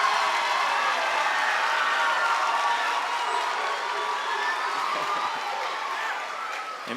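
Big audience of students at a high school festival performance cheering and applauding, a loud, dense, sustained roar of clapping and shouting that tapers slightly toward the end.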